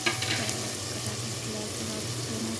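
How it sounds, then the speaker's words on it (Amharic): Onions frying in oil in a pan, a steady close sizzle with faint stirring scrapes throughout. "እዚህ ሽንኩርት እንዲጠበስልኝ"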